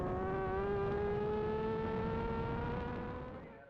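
Supersport race motorcycles at the Cookstown 100 road race scream past the finish line at full throttle, a loud sustained high-pitched engine whine that holds steady then fades slightly as they pull away.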